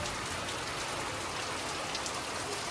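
Heavy rain during a storm in the Konkan region pours down in a dense, continuous roar of drops on surfaces, loud and unbroken throughout, with no talk.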